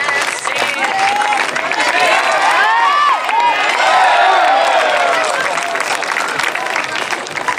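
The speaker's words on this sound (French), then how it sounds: "Allez, tout le monde tape dans ses mains là, merci." Spectators at a Trial World Cup motorbike event in Méribel clap and cheer steadily throughout, with whoops and shouts rising over continuous dense applause.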